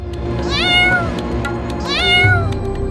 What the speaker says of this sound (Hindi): ये तो बिल्ली के बच्चे की आवाज है।